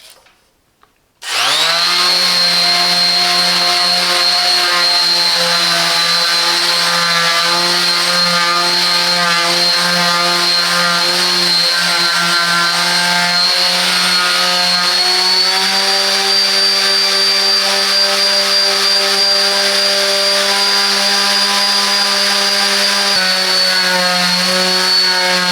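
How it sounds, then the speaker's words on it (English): A Parkside PPS 200 C2 power sander runs on wood with a steady, loud, high-pitched motor whine, starting abruptly after a second of quiet and holding constant for over twenty seconds. "And let's test it. See how well it can sand a wood."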